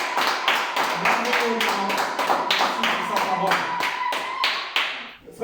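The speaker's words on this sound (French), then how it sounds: "Est-ce que nous pouvons acclamer pour le Seigneur ce matin?" A church congregation at a Sunday evangelical service in Nantes claps steadily in rhythm to praise the Lord, with voices singing and calling out alongside the sharp, even beat.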